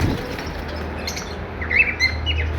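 Cockatiels and lovebirds give a few sharp high chirps and tweets over a low background hum, brief and fairly close, with no voices.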